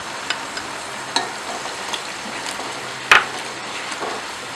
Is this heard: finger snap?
no